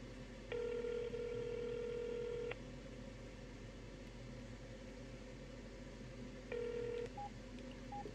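Telephone keypad tones on a quiet line, one long tone held about two seconds, then a shorter tone followed by two brief beeps, all over faint background hiss.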